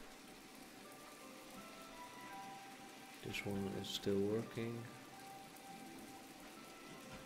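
Steady rain falls in the video game My Time at Portia, a soft continuous patter throughout, with a person briefly talking over it midway.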